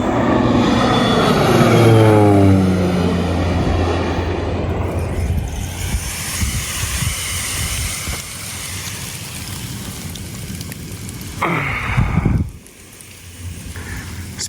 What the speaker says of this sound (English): Spreading wheat by airplane is what it looks like.